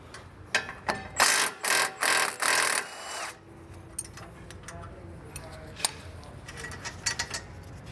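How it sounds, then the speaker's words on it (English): A 16 mm pinch bolt and nut come off a BMW E90 front strut, heard as a quick burst of rapid ratchet clicks close up, then quieter metallic taps and handling sounds. "So we're going to remove our pinch bolt first. It's going to be a 16 millimeter nut and a 16 millimeter bolt."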